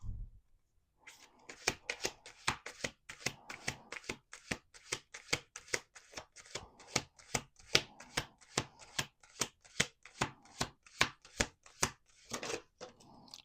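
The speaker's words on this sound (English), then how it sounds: "1 more shuffle." A deck of playing cards is riffle-shuffled on a table, producing a long run of rapid, crisp flutters and snaps in a steady rhythm close by, with a brief pause near the start and no talking over it.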